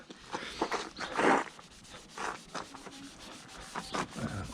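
Hand sanding of a car headlight lens during restoration, soft irregular rubbing strokes in short bursts, close and fairly quiet.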